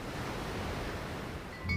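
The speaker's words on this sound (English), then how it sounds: "The sea is constantly stirring with waves, tides, currents, and storms." Sea waves wash in a continuous soft roar, fairly faint and even, with a slight swell toward the end.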